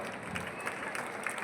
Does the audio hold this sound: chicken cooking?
no